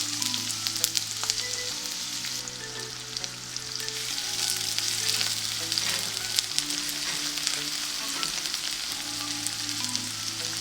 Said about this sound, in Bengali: চুলায় তেল দিয়ে দিলাম এখানে তিন টেবিল চামচের মতো তেল আছে দিয়ে দিলাম পেঁয়াজ আর মরিচ